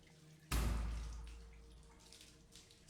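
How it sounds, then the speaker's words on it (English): Dripping water in the video game 9 Clues 2: The Ward, a sudden loud onset of liquid splash and drip that slowly fades, with faint ambient tones around it and no talking. "Stop the dripping noise!"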